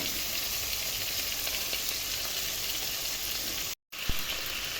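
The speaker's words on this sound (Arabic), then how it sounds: "هنسيب الفراخ لحد ما تتحمر" Chicken pieces frying in oil in a pan until browned for kabsa, a steady dense sizzle throughout, close and loud, with a brief cut and a small clink near the end.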